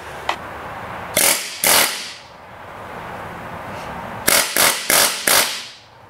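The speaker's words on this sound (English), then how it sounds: "high power air chisel" A heavy-duty, high-power air chisel used for axle work fires in short, loud bursts, first a single tap and two blasts, then a quick run of four sharp bursts after a pause.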